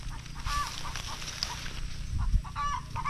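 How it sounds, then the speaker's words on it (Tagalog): Several chickens call out in bursts of honking, clucking sounds over a rumbling outdoor farm background, with a thump near the end. "Maputak yung manok, ano."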